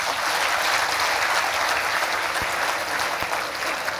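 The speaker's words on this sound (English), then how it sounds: "we have a big round of applause for this." An audience at a motivational business talk breaks into a sustained round of applause, loud and dense with many hands clapping continuously and evenly for the full four seconds.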